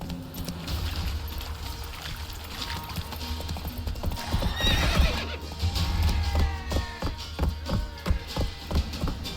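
A horse in The Witcher 3 neighs and runs, its hooves clopping in a quick rhythm alongside a loud whinny and some creaking of tack, close and clear, with no speech.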